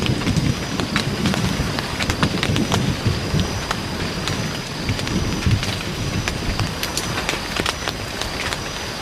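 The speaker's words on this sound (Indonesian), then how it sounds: "karena hujan terlalu deras gitu ya" Heavy rain drumming steadily on a tent during a downpour, a dense continuous hiss with scattered sharper drop impacts, close and unbroken throughout with no talking.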